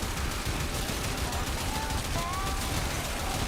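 Steady gunfire in Warframe rattles on continuously at a moderate level, a dense stream of shots with faint mechanical whines layered beneath.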